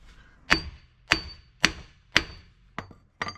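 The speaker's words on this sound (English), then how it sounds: "we'll give it a couple whacks with the old hammer" Six sharp metallic hammer strikes on a stuck ball joint of a Volvo XC70 ring out at roughly even intervals, close and loud, each with a short bright ringing decay.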